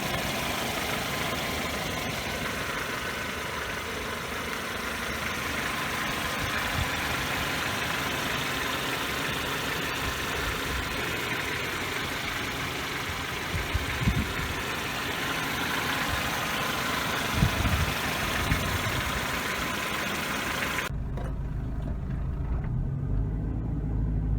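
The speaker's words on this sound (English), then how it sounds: "Here's the engine bay with the motor running." A 1992 Acura Integra LS sedan engine idles in the engine bay with a steady, low rumbling drone, close and continuous, before the sound changes abruptly near the end.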